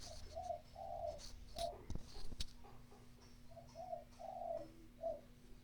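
A zebra dove (perkutut) gives repeated soft, rolling coos in two bursts of several notes each over a steady hum, with a few sharp clicks and knocks in between during an online class.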